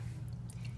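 Water drips faintly from a hand lifted out of a basin during an oil-spill cleanup demonstration, with a few soft, brief drips and squishes in a quiet room.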